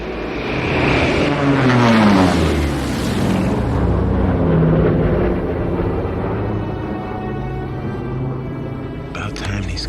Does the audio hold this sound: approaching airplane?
yes